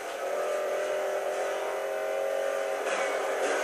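Chevrolet Corvette ZR1 engine in Need for Speed Most Wanted on PS3, a loud, steady high-revving drone held throughout with slight pitch shifts, no voices over it.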